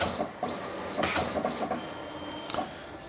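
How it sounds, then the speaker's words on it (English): A Mitsubishi Easy Photo K60 photo printer runs through a print, a steady mechanical whir with rhythmic feed clicks and a few louder clacks, heard up close. "anything is going to come out of the printer"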